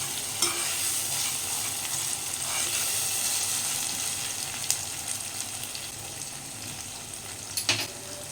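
Ginger paste fries in a pan with softened onion and tomato, giving a steady, close sizzle with a few light stirring clinks and no talking.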